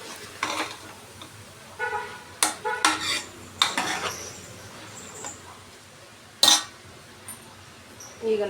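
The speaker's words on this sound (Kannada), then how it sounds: "ಒಂದು 5 ನಿಮಿಷ ಎಲ್ಲ ಚೆನ್ನಾಗಿ ಫ್ರೈ ಮಾಡ್ಕೋಬೇಕು." Ivy gourd palya being stirred as it fries in a pan, heard as scattered metallic scrapes and clinks of a spoon against the pan, sharp and intermittent over a faint background.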